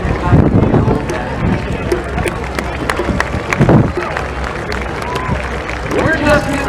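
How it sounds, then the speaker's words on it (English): Crowd at the EAA AirVenture Oshkosh 2025 airshow applauding and cheering outdoors after an aerobatic display, steady clapping and murmur with announcer talk and nearby voices mixed in. "round of applause for the award-winning Titan Aerobatic"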